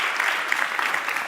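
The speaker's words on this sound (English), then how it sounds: "And please applaud, because you're a part of that." Audience applauding at a convention gathering, a dense steady wash of many hands clapping at full volume for the whole short stretch, with no voices on top.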